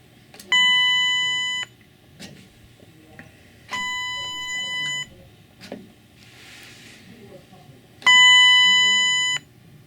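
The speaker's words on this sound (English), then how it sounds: "I'm going to go ahead and press the up button, and the chime will sound." Dover Impulse elevator chime ringing after the up button is pressed: three moderately loud electronic tones about a second long, spaced several seconds apart, with clicks and faint room noise between them.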